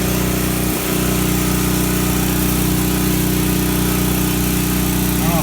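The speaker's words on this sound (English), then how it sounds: "I don't know of electric, so got ourselves a generator." Portable generator running continuously close by, a loud steady engine drone with strong harmonic hum and a slight bump about a second in.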